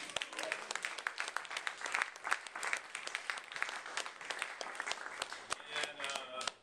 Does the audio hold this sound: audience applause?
yes